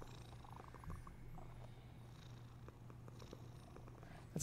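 A cat purrs softly and steadily up close in a quiet room, a low continuous rumble with no other sounds.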